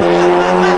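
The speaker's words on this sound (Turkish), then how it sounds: "Drift de güzel atılıyor." Car drifting with a sustained tire squeal, loud and close, a steady engine hum beneath it throughout the short burst.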